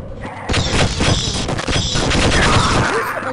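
Continuous heavy gunfire in the video game Half-Life 1 (MMod), a loud dense stream of rapid shots and booms that fills the whole moment without pause.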